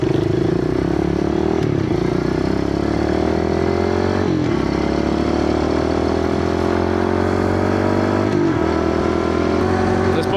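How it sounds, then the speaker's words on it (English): Small pit bike engines out on an evening ride from Goulds toward the Trans Canada Highway, loud and close, a steady droning run with the pitch rising through gears and brief dips at shifts. "Man, this bike is running so much better."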